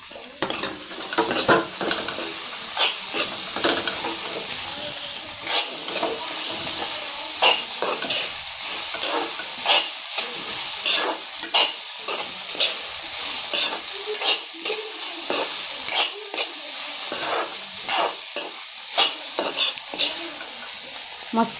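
Potatoes and onions fry in a pan with a steady loud sizzle, while a utensil scrapes and stirs in quick, irregular strokes throughout.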